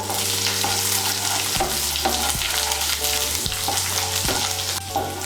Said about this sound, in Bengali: আদা আর রসুন কুচিটা দিয়ে একটু নাড়াচাড়া করে নেব।